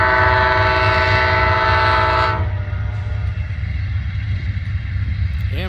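An Amtrak train rumbles past near the Mississippi River, with a loud horn blast sounding for about two seconds before cutting off, leaving the steady roar and clatter of rail cars continuing alone.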